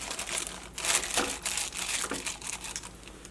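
A thin plastic cover crinkles and rustles up close in short irregular bursts as it is set into a glass and pressed.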